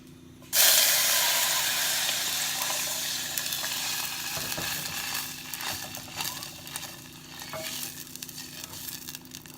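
Vegetable broth hits a hot pan with star anise and bursts into a loud sizzling hiss that slowly settles into a softer bubbling fry, with light stirring scrapes.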